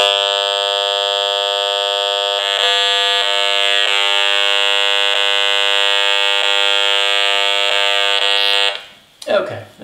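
A loud, steady electronic buzzing tone with harsh harmonics from an EMF meter reading a baby monitor's wireless signal holds for several seconds, then cuts off abruptly into a brief rustle.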